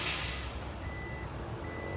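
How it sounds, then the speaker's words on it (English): Reversing sensor beeps from a Toyota RAV4 Cruiser with the boot open: two long, steady electronic tones in quick succession over a constant background hum. "it does run your reversing sensors as well as the camera, so quite handy"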